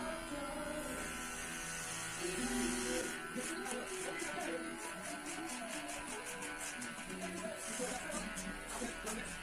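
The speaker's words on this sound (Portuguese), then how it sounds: "toda vez que você for passar a máquina na parte de cima, passe ela sempre da frente para trás" Electric hair clipper running over the top of a head during a haircut, a steady close buzz with rhythmic passes, while a person talks over it.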